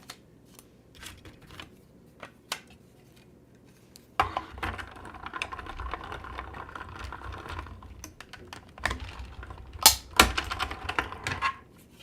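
An Intricut Mini die-cutting machine cuts out a postcard stamp on a grip mat. Quiet ticks are followed by a steady close mechanical whirr full of rapid clicks and taps, with no speech.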